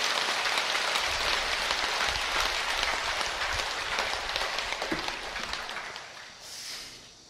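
An audience at a Buddhist dharma talk applauds with dense, sustained clapping that gradually thins and fades toward the end.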